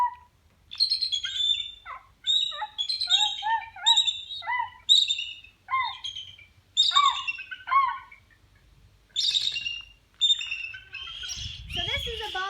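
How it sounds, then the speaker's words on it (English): Bald eagles at a birds of prey center give loud, high, piercing chattering calls in repeated bursts with short quiet gaps, close by, and a voice briefly at the end. "So this is a bald eagle."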